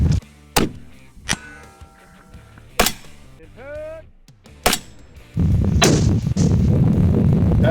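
Sharp, loud precision rifle shots fired at a 1000-yard steel target on a long-range practice setup, several cracks spaced about a second apart, followed by a sustained rumble of wind or background noise.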